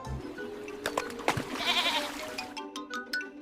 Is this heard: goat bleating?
yes